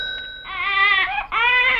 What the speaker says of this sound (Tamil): என்னது குழந்தையின் அழுகுரல் சத்தம்?